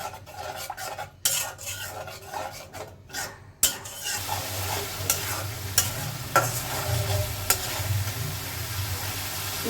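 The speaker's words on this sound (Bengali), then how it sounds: "এখন এখানে আমি অ্যাড করবো টক দই। এটাকে আমি নেড়ে চেড়ে কষিয়ে নেব।" A spice masala with sour yogurt stirred and sautéed in a pan, with scraping and rubbing strokes up close, a few sharp knocks early on, then a continuous sizzle under repeated stirring.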